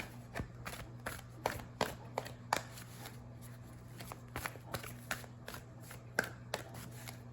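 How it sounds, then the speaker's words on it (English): Oracle cards are shuffled repeatedly up close, a quick riffling patter of crisp snaps over a steady low hum, with no talking. "Right now, I'm shuffling to get you a Keepers of the Light Oracle"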